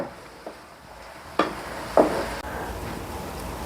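Aloe vera curry with green chillies stirred in a pan, giving a soft, steady sizzle broken by a few distinct scrapes and knocks of the spoon, with no talking.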